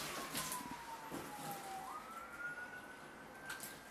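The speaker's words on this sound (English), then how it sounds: "here the sirens are coming to get us." An emergency vehicle siren wails steadily in the distance near an abandoned house, its rising and falling tone sustained throughout over a constant background hiss.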